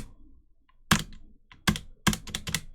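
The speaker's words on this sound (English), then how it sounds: "We'll just type in about" Several sharp, close keystrokes on a computer keyboard in a quiet room, a lone tap followed by quick clustered bursts of typing.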